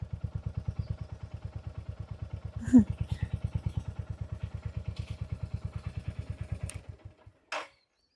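Motorcycle engine idling close by with a steady, fast chugging thump, a brief louder rev partway through, then cutting off near the end; faint voices in the background.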